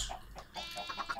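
A few short chicken clucks in Minecraft, close and moderately loud, coming in quick bursts over a brief stretch with no talk.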